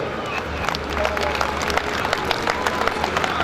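Audience at a large Hindi comedy poetry gathering in Behror claps in a steady, dense burst of applause with scattered sharper claps and faint cheering, fairly close and continuous throughout.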